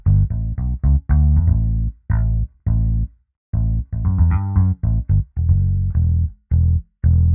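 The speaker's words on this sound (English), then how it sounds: "this is the sound of a Fender bass guitar" Sampled Fender bass guitar played through a Kontakt Blueprint sample instrument: a run of deep, plucked bass notes, some short and staccato, others held, with a busier cluster of quick notes midway, loud and close with no talking.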